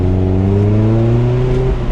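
Close engine drone from a Mazda ND Miata with sway bars, rolling through a U-turn at steady revs, the tone gliding slightly upward before settling lower; loud and continuous with no voices.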